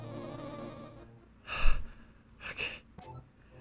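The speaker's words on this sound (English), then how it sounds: "Oh, so many bees." Buzzing bees in the video game Zelda: A Link to the Past, heard as two short swelling buzzes over a quiet background of game sound.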